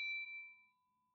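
A bright notification ding sounds once, a clean ringing chime that decays over about a second, alone with no other sound.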